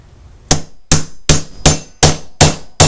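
A hammer strikes a metal leather snap post six times in steady succession, each tap sharp, close and loud, ringing briefly before the next with quiet in between.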